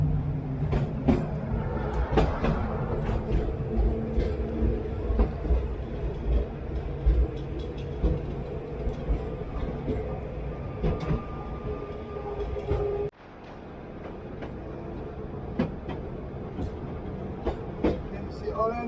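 A historic tram rolls from Port de Sóller to Sóller on Mallorca, a steady rail rumble with clicking wheels running throughout, voices talking over it, and the noise dropping sharply near the end as the tram slows or quiets.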